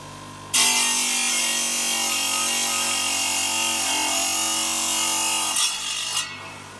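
A power tile saw grinds through slate with a continuous harsh, buzzing roar, holding steady before winding down at the end.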